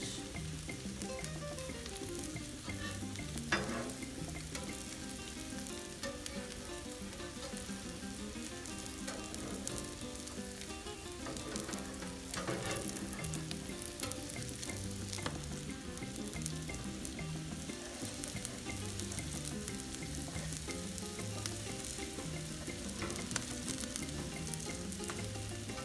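A smoked lamb omelette cooks in a pan with a soft, continuous sizzle and frying crackle, low in level and steady throughout, with occasional light stirring scrapes.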